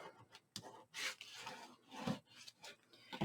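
Glued paper being burnished by hand onto a steampunk-style 8.5 x 8.5 craft album folio. Soft, dry rubbing strokes come in a series of short, uneven passes, close and quiet, with no talking.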